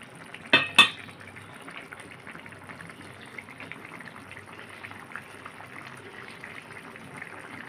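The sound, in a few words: stirring tengra fish and bitter gourd curry with cumin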